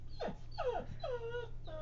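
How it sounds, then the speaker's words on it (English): A dog whimpers nearby in a few short, high-pitched whines over a low steady hum. "That's my dog, sorry."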